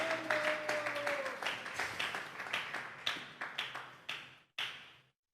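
A church congregation at a Sunday service claps together, a rhythmic run of sharp hand claps in quick pulses that thin out and stop near the end, fairly close.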